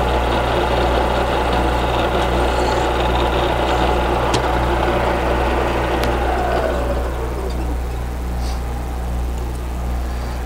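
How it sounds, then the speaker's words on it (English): A machine reams a hole in metal with a loud steady motor drone and deep hum, running continuously with slight changes in pitch as the cut progresses, no talking over it. "When you ream a hole"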